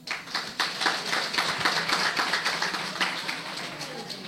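Applause from an audience at a departmental quiz competition for young students, steady rhythmic clapping from a crowd, fairly close and sustained throughout with some voices mixed in.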